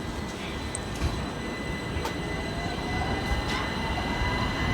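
A Greater Anglia passenger service from Ipswich to London Liverpool Street pulls out of a station with a steady rumble of rolling wheels and a faint squeal, continuous and fairly close, with no talking.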